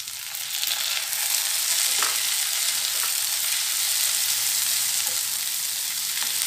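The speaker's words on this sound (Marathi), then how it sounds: "टोमॅटो शिजेपर्यंत आपण झाकण ठेवून छान परतून घेतलेले आहे।" Tomatoes fry with browned onion in a pan for restaurant-style matar paneer. A steady, dense sizzle holds throughout, with a few soft stirring scrapes close by and no talk.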